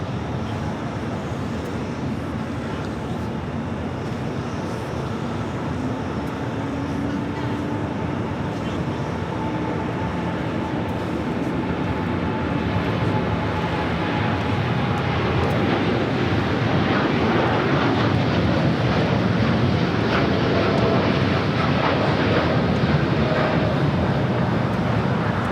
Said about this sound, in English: This is Japan Airlines Flight 69 taking off to Osaka on the 787-9 Dreamliner.